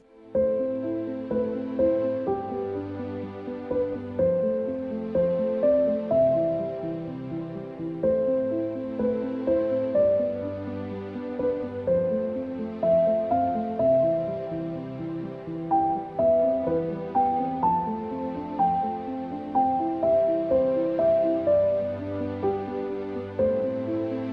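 A complete 16-bar piece for piano with string accompaniment, played with dynamics: a flowing piano melody over sustained string chords, swelling and easing gently across the phrases, with no voices.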